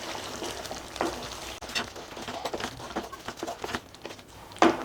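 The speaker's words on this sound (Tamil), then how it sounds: "இப்போ இதில் கொஞ்சமாக ஃப்ரெஷ் க்ரீம் சேர்த்து நல்லா மிக்ஸ் பண்ணி விடலாம்." Fresh cream being stirred into a sizzling paneer gravy, a steady fry hiss with scraping spoon strokes and a few sharper clinks, close and fairly quiet, with no talking.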